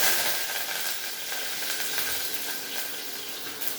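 Very hot cooking oil with cumin seeds sizzling in a pan on a stove, a steady bright hiss with faint crackles, close and continuous throughout.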